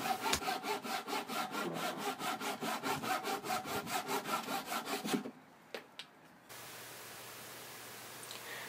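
A hand saw cutting wood for a gate, cutting on the pull stroke, makes a close, steady rhythm of rasping strokes for about five seconds, then stops, leaving a few faint knocks and quiet room hiss.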